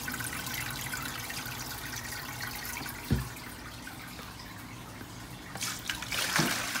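Water runs steadily from a tap into a bucket, a continuous close trickle and splash with a faint thump partway through and slightly busier gushing toward the end.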